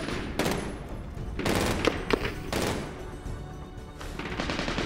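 Rapid bursts of gunfire from the first-person shooter Medal of Honor Warfighter, in a hotel showdown mission, with dense crackling shots and a few sharper reports, loud and continuous throughout.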